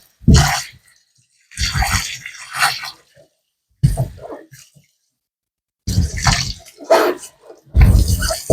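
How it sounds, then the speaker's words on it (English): A pumpkin being rinsed under running water to wash off dirt, heard as several close bursts of splashing and gushing water separated by short silent gaps. "rinse the pumpkin, get off as much dirt as we possibly can"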